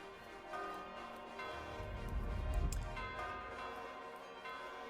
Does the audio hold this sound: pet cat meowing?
no